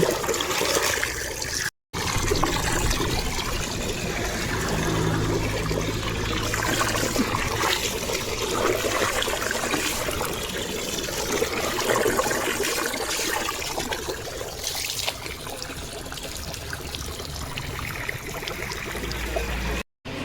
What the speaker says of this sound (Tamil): இந்த தொட்டி பைப்பு தண்ணியை திறந்துட்டு பார்த்தா அலசணும்